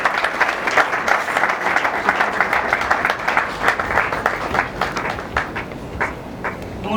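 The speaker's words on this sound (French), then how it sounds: "Sous vos acclamations" Steady audience applause fills a conference hall in Brazzaville, dense continuous clapping that holds at an even level for several seconds before easing slightly, with no speech over it.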